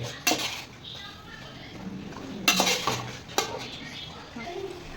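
A spoon clinks and scrapes against a pot while biryani gravy is stirred, a few sharp metallic knocks over quiet kitchen background.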